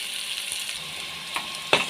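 Finely chopped potatoes fry in oil with chili powder and salt, giving a steady close sizzle with a couple of brief scraping clicks near the end.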